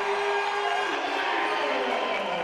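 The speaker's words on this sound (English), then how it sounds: "crowd on their feet" Crowd at a women's college basketball game rises and cheers after a made shot, a steady broad roar of voices over a play-by-play commentator talking throughout.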